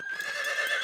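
A horse neighs in a French cartoon, one short, loud, bright whinny filling the whole brief moment, with no talking.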